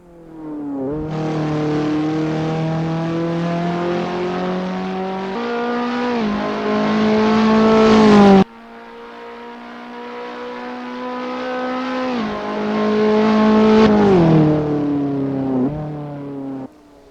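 A Ferrari SF70H Formula 1 car in Assetto Corsa revs loud and close, its high-pitched engine climbing through gear shifts in two long pulls separated by a brief cut, with no talk.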